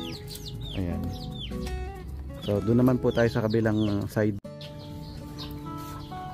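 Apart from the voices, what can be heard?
Chabo Japanese bantam chickens clucking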